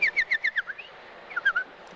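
Voices imitate birds with a quick run of about six high chirping whistles, a pause, then a few more trills, clear and fairly close over a faint background.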